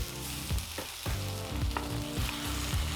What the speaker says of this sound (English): saute the garlic, we add the onions, then we add the canned tuna